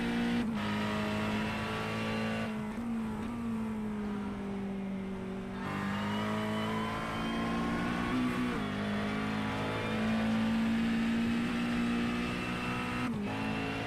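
Race car engine in iRacing at Oulton Park, steady loud drone with shifting pitch as the car runs a warm-up lap, brief dips and rises between gear changes, no talk over it.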